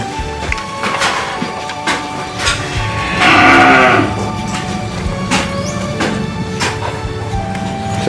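Cattle eating mixed feed in a barn, with one loud drawn-out moo near the middle over steady chewing, rustling and scattered knocks and clatter close by.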